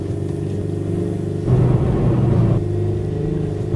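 A Renault Clio 4 engine in a driving video game hums steadily, then swells into a louder, rougher surge for about a second before settling back to an even drone.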